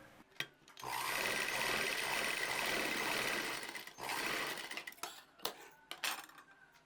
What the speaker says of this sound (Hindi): अब यहाँ इससे डबल सिलाई करके इसको फिर वापस नीचे की तरफ ले आएंगे